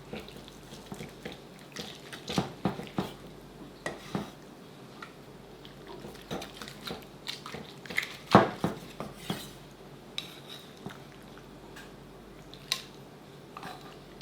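Knife scraping and clicking against a plate or board as stewed beef is cut, irregular taps and scrapes with one sharper clack partway through, close by.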